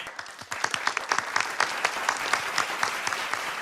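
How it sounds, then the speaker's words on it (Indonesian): Audience clapping on a television talent show, a brisk, even patter of many hands with a few sharper individual claps standing out, sustained at moderate loudness. "Kita beri tepuk tangan."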